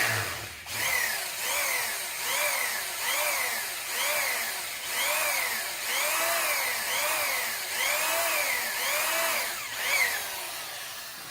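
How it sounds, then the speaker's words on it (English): A magnetic drill spinning too fast bores pilot holes into metal, giving a loud, close whine that rises and falls in repeated cycles, roughly one every second, after a brief thump at the start. "Now this drill spins too fast."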